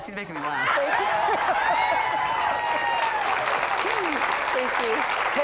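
A live studio audience applauds and cheers loudly and steadily through the whole stretch, with a host talking and laughing over the clapping.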